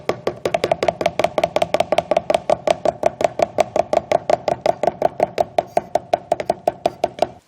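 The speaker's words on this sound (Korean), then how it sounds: "칼질을 해주지 않으면 절대 이 덩어리가 풀어지지 않아요" A knife finely chops abalone innards in a steady, rapid series of about forty close, crisp strokes, with no talking.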